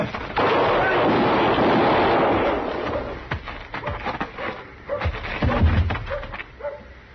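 A gunshot sound effect in a Western radio drama, a loud sharp blast followed by a rumbling echoing tail, then scattered thumps and faint voices.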